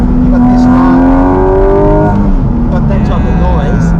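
A Porsche GT4 RS engine revving hard close by, a rising harmonic whine that climbs and then falls away, with a voice talking over it.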